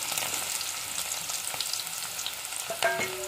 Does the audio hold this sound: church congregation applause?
no